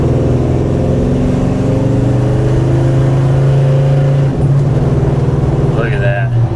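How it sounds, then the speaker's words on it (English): A 1940 Chevy car engine idling and revving, its exhaust giving a loud, steady, low drone with a slight rise in pitch near the end. "Exhaust note is perfect."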